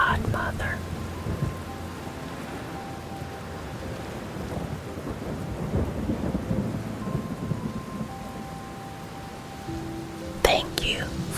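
Steady rain falls with low rolling thunder rumbling throughout, close and even, while a soft whispering voice runs over it and a brief sharper crackle comes near the end.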